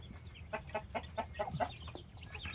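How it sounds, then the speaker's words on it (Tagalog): A chicken clucks in a quick series of short, rhythmic calls close by, then trails off into softer sounds. "Let's see sa manok ni tatay here."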